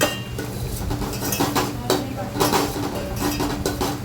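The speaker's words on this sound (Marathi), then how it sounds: "त्याच्यातच रवा टाकून घेते रवई व्यवस्थित तुपात भाजून घेते" Semolina is roasted in ghee while a utensil stirs it in a pan, making steady scraping and clinking strokes close up with a soft sizzle underneath.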